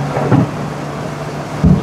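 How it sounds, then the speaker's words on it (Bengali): Thunder rumbles through a storm in Purulia, with two low, heavy booms rising over a steady background of rain, the second one near the end of the short stretch. "প্রচণ্ড জোরে বাজ পড়ছে এবার"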